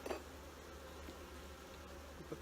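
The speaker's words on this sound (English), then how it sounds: "I'm gonna put these bees down in there." Honey bees buzzing during a hive inspection, a low steady drone close by with faint handling sounds of the hive.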